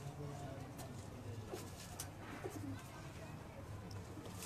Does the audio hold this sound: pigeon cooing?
yes